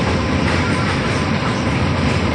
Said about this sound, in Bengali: এই দেখো আমার মাথার উপর থেকে দেখো ট্রেনটা চলে যাচ্ছে